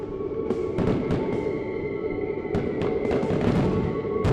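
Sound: fireworks exploding in a video game

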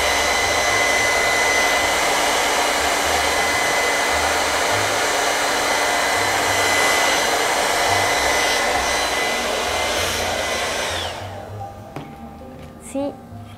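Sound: hair dryer blowing to dry glue

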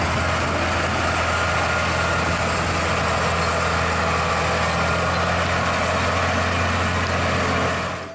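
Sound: toy trailer truck engine idling

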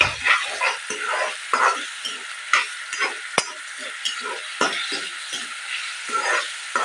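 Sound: ivy gourd frying with green chili and salt in pan

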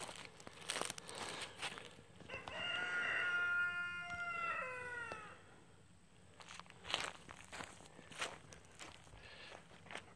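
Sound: roosters

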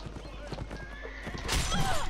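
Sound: horse neighing and galloping in video game Mount and Blade Napoleonic Wars

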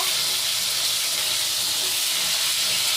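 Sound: cauliflower frying and sizzling at a sweet shop

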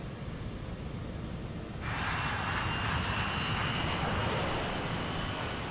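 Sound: KLM jet airliner approaching at high speed on the runway

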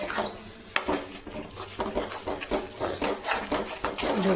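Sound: stirring semolina upma in a pan after adding water

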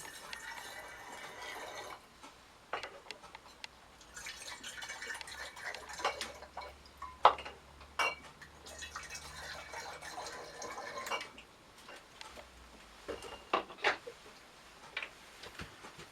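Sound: water poured through a funnel into bottles

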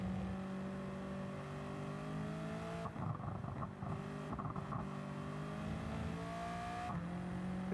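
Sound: car anti-lag popping in racing video game

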